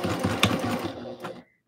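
A sewing machine stitches tulle for a tutu, running steadily and close for just over a second with a faint clunk before it stops abruptly.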